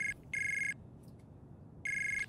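A phone plays a high, steady electronic ringtone for an incoming call, in short repeated pulses with gaps between them, over a low background hum.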